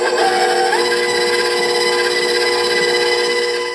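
An electric mixer beats cookie dough for holiday baking, giving a steady, loud motor whine with a bright tonal hum that holds without a break and fades slightly at the end, with no voices.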